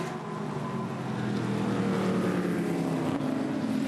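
Touring Car Masters race cars in a 2016 race at Hidden Valley, a steady loud engine roar from a close pack of cars holding together with little change across the stretch.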